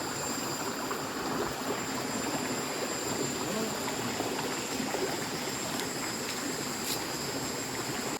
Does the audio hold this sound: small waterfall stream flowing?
yes